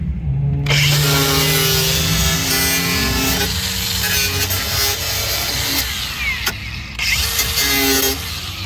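A power tool cuts loudly and continuously through a fiberglass car fender on a drift car, a harsh grinding whine with shifting pitch that runs close up without pause.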